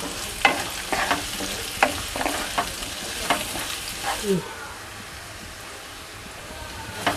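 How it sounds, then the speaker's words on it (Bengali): Chopped onions and half-fried potatoes fry in a pan, with a soft hiss under repeated scraping stirs and clinks that stop partway, leaving a quiet low sizzle. "পেঁয়াজ আর আলু লাল লাল করে ভেজে নেব"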